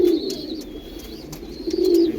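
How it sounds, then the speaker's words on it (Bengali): A pair of Jan Aarden racing pigeons in breeding condition coo nearby, loud rolling coos at the start and again near the end with a quieter stretch between and a thin high tone running underneath. "দেখুন পায়রা, পায়রা একদম গরম, চাইলে এখনই জোড়া দেওয়া যাবে"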